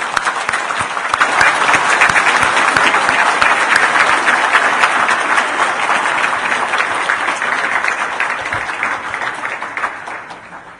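A church congregation applauds warmly to send off a departing pastor, a dense, loud, sustained wave of clapping that swells after the first second and tapers off toward the end.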